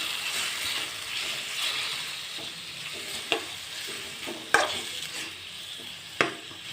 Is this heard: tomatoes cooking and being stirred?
yes